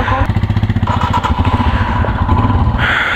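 Motorcycle engine running loud and close at the start of a mountain ride in Ladakh toward Pangong Tso, with a steady rapid throb and a shift in tone near the end.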